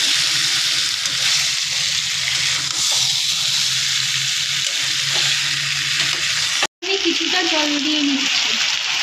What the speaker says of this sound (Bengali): মাংসটাকে আরও কিছুক্ষণ কষিয়ে নিচ্ছি ভেজে রাখা আলুগুলো দিয়ে নিলাম